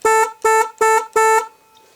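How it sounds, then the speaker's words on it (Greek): Four short electric horn blasts from a vehicle's dashboard horn switch, evenly spaced and loud, each a steady bright buzzy tone, with silence after the last. "Αυτό εδώ πέρα είναι η κόρνα."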